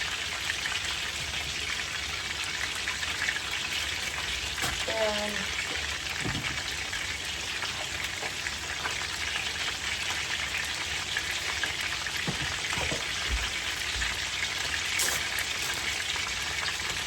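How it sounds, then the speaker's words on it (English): Pork chops frying in a pan in a home kitchen, a steady, faint crackling sizzle like light rain that runs throughout with a few louder knocks and pops. "y'all are seeing the meat fry there"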